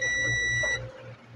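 Buzzer on a TCL TV main board with a shorted IPM gives a steady high electronic beep with harmonic tones for about half a second, then cuts out leaving a low hum.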